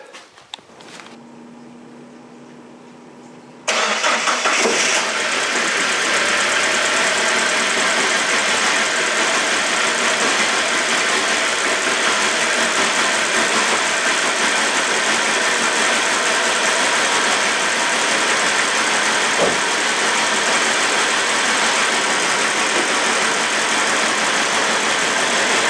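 Saab 9-5 Aero engine fired up after a fuel system upgrade: brief cranking, then it catches with a loud bark and holds a steady, close, noisy idle for over twenty seconds.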